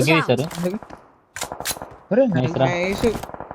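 Rapid gunfire in the mobile battle-royale game BGMI crackles as sharp clicking bursts beneath a player's continuous talking.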